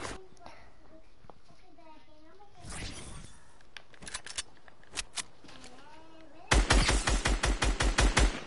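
Gunfire in a video game, with a few scattered single shots amid a child's chatter before a loud burst of rapid, evenly spaced automatic shots ends the clip.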